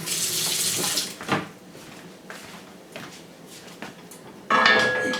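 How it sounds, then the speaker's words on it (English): Tap water runs from a kitchen faucet into a bowl, a close, hissing splash at the start, then a few brief handling clunks and a fresh burst of flow near the end. "I'm just going to add some water to it"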